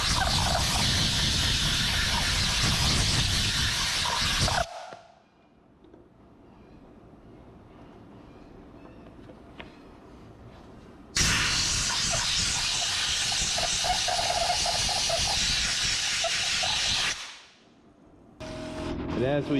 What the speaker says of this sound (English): an air compressor and blower tool for your air compressor